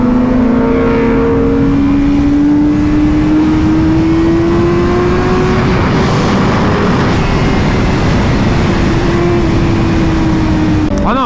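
A Honda Fireblade 1000cc motorcycle cruises on a highway with a loud, continuous engine drone whose pitch climbs slowly and then holds, mixed with heavy rushing wind noise throughout.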